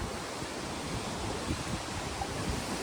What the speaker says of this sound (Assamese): ধাৰাসাৰ বতাহ দি আছে, ধাৰাসাৰ বতাহ।